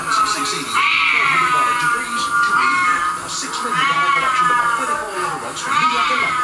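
A Siamese cat meows over and over in rising, drawn-out cries that carry a strained, wailing edge, repeating almost without pause across the stretch.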